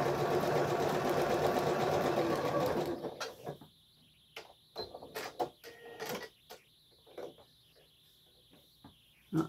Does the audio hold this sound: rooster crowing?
no